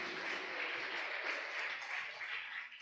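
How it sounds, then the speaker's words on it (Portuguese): Church congregation applauding, a dense wash of many hands clapping at a steady level, moderately distant with no voices over it. "Se você pode, dê um forte aplauso ao Senhor."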